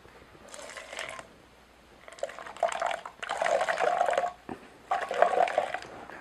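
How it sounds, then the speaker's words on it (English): Apple cider vinegar poured into the bottom of a plastic pop-bottle fly trap, heard as several short bursts of splashing liquid with brief pauses between them, close by and fairly quiet, with no voices. "we're going to pour just enough apple cider vinegar to kind of go in that bottom"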